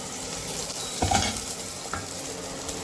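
Steady frying sizzle in a pan with a brief clatter of stirring near the middle, close and fairly loud, no voices.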